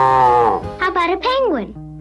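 Cartoon dog imitating a cow with a vocal moo: a long low drawn-out note followed by several shorter wobbling calls, close and fairly loud, no other voices.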